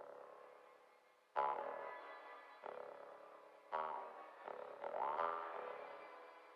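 Synth sounds pass through a spatial delay set to the Delayed Glow Octave Up preset in FL Studio: a few separate hits, each trailing a swelling, echoing tail that blurs into the next, with a rising pitched sweep near the end, fairly quiet and alone.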